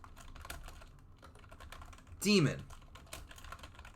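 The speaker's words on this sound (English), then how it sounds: "I'm filling these in on the sheet for anyone who hears my typing in the background" Someone types on a computer keyboard in the background, light irregular clicks at close range with a short burst of voice partway through.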